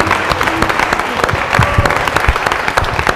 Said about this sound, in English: Give Reggie a hand.